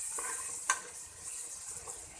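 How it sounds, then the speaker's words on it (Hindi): Masala spices for a fish curry frying in a pan over a low flame, giving a soft, steady sizzle with a single sharper scrape of stirring partway through and no talking. "3-4 मिनट के लिए हम इन मसालों को भूनेंगे अच्छी तरह"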